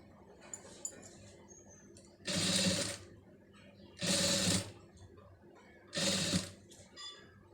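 Sewing machine stitching lace onto a garment neckline, three short bursts of fast needle whirring separated by quiet pauses with faint handling clicks, close and fairly quiet.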